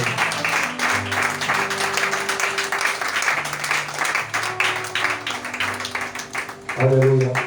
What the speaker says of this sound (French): Je te demande d'acclamer Jésus.